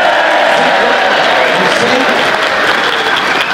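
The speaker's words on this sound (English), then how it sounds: "we want to open up the programme with a rapturous round of applause from all you lovely people here in the international" A studio audience at a UK all-inclusive holiday resort breaks into a rapturous round of applause, dense steady clapping filling the room at full loudness with a hint of crowd noise mixed in.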